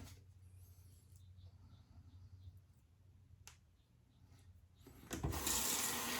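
Tap water runs as a razor, an early-1900s Gillette ABC pocket edition, is rinsed off; soft splashing and clicks give way to a louder, steady rush of running water near the end.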